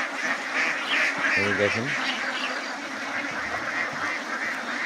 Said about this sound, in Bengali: উঠতেছে কিছু হাঁস